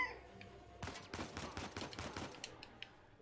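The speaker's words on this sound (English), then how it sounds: "The guy up there is shooting me" Enemy gunfire in the video game Uncharted 4 crackles as a rapid burst of automatic shots, quiet and somewhat distant, then a few scattered single rounds.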